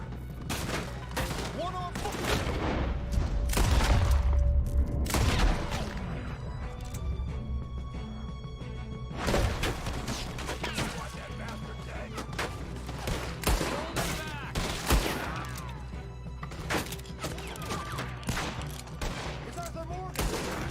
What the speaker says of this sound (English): I gotta use this bullshit fucking gun.